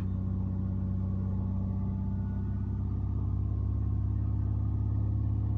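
A Land Rover engine drones in a low, steady rumble close by, its pitch lifting slightly partway through as the revs rise, with no voices.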